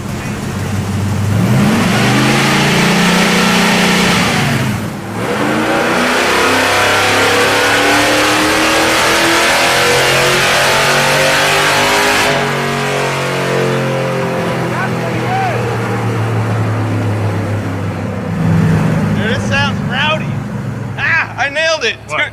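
A 1966 Ford Econoline flat-face pickup engine revving loudly and repeatedly during carburetor tuning, holding high sustained revs that sweep up and down, close to the vehicle, with voices talking over it near the end.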